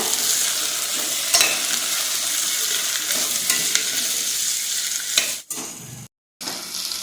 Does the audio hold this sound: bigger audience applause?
no